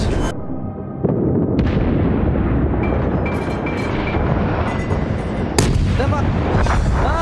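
Warship guns firing in the naval battle game World of Warships, heavy booming blasts over a dense, continuous rumble of engine and battle noise, loud and close.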